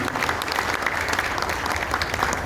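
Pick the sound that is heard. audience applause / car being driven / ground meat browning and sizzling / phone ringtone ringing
audience applause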